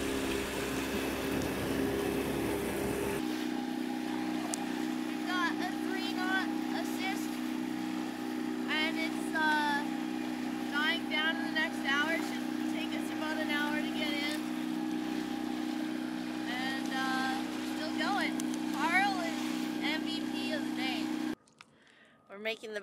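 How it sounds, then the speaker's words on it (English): A boat engine barely idling while the vessel makes about 6 knots, after transmission trouble, gives a steady low drone with some water and wind noise and a few faint voices. It runs evenly for about twenty seconds and then drops away sharply near the end. "We've come in and we're making like 6 knots, just barely idling Carl"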